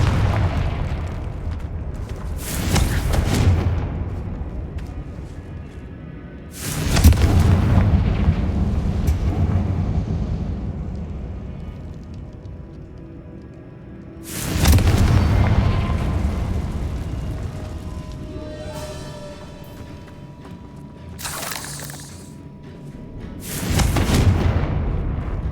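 Four big Confringo spell explosions from Hogwarts Legacy, each a loud booming blast followed by a rumbling decay, spaced several seconds apart over a low ambient bed.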